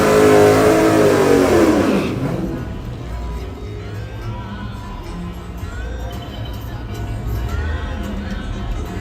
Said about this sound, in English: y'all don't hear that little whine on there? Oh, that is alternator.